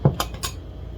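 Two metal non-stick cake pans knocked together as they are handled, giving a few light clanks and a soft thud in close succession in a quiet kitchen, without any talking.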